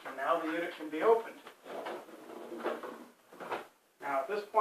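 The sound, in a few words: pull-out spice rack cabinet unit being opened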